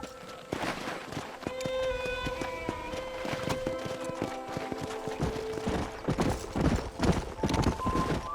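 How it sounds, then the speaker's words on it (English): Horse hooves clip-clopping at a quick, steady pace in Red Dead Redemption, with faint game music and ambient sounds around the close, rhythmic hoofbeats. "Giddy up! Come on, Mr. Marston, pick up the pace!"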